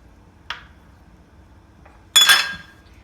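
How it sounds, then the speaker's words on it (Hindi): Dried plums drop into a metal cooking pan, one small knock followed by a louder, brighter clattering clink as the fruit lands, in a quiet kitchen. "पैन के अंदर हम आलू बुखारा डाल देंगे।"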